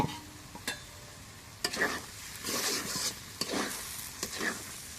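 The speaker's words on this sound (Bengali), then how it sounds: "এখন কচু ভাজি দেওয়া গেছে, এখন নামাই নিই।" Taro (kochu) being stirred and fried in a pan, with a steady sizzle broken by repeated scraping and stirring strokes, close and moderately loud, no talking.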